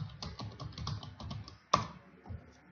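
Keys on a computer keyboard click in quick close bursts, then one sharp louder tap lands and a few sparse presses trail off into quiet.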